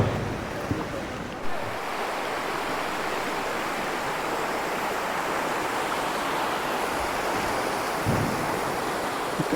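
Water flows under an iron bridge at Gudisa Hills as a steady broadband rush, continuous and moderately loud, with a couple of faint thumps from nearby handling and no talk.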